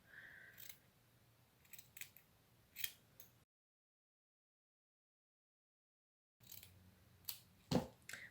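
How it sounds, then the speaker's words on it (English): Scissors cutting a triangle out of paper: a few sharp snips in two short bursts separated by a few seconds of silence, close and quiet. "I'm just going to cut this triangle out to show you."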